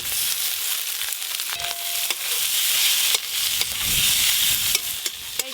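Spiced mushrooms fry in a pan with chopped onion and garlic, a steady sizzle running throughout as a spoon stirs and scrapes in repeated close strokes, with no one speaking.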